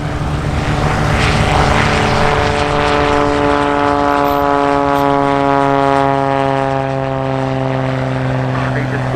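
A propeller airplane drones steadily overhead at EAA AirVenture Oshkosh, its loud engine tone sliding gradually lower in pitch as it passes and recedes.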